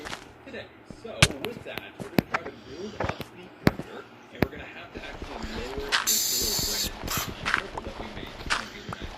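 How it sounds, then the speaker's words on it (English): In Minecraft, a creeper hisses and then explodes in a loud burst of noise, amid sharp in-game clicks and footsteps, while a player talks over the gameplay. "you hear a creeper explosion"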